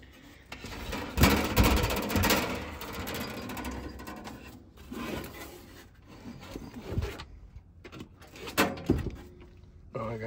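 Clunks, scrapes and rattles of a Hallicrafters SX-25 radio receiver chassis being handled and turned over on a bench, several irregular knocks close up with quiet gaps between.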